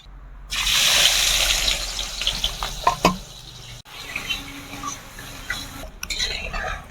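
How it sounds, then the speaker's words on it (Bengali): Chopped onions and whole cumin seeds hit hot oil in a pan for a fish curry, bursting into a loud, steady hiss that softens into a lighter sizzle with occasional spatula scrapes and clinks. "পেঁয়াজগুলো আমি এইভাবে ভেজে নিলাম"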